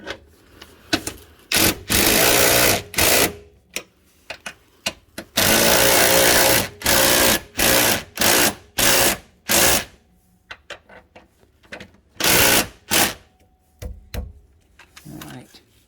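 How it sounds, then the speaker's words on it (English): A power tool with a 5/8 socket tightens bolts while a side bar is fitted to a 2012 Ford Escape, in a series of loud, close bursts of whirring and ratcheting, each a second or so long, separated by short pauses. "we're just going to tighten these down, and this is with a 5/8 socket"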